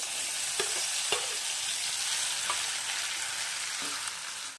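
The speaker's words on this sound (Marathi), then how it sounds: "आता आपण यामध्ये तेलामध्ये तेल तापलेलं आहे वाटण टाकू" Ground chilli, garlic and cumin paste hits hot oil and sizzles in a steady close hiss, broken by a few sharp spoon taps and scrapes against the pan, fading at the very end.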